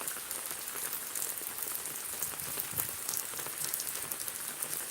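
Steady, dense rain falls on surfaces at a farm in the eastern Miraj area, a continuous close hiss with scattered drop impacts; no distinct thunder rumble stands out.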